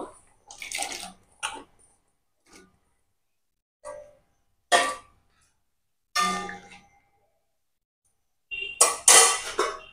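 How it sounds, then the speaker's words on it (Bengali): Metal clanks and rings from a pot being covered with its lid while potatoes boil in water on a home stove, several separate sharp clangs spread out with silent gaps between them and no talking. "আলু ঢাকনা দিয়ে ঢেকে দিলাম, সেদ্ধ হোক।"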